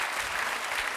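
Studio audience on a French TV game show applauds a contestant, a brief, dense, continuous burst of clapping.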